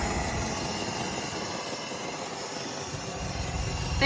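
A 1954 Cadillac engine runs with a steady, hissy, even drone at moderate distance, with no talk over it.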